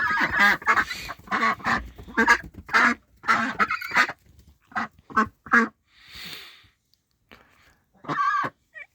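Domestic ducks quack loudly and close by in a busy run of harsh calls, then a few more squawks after a brief pause, with no talking.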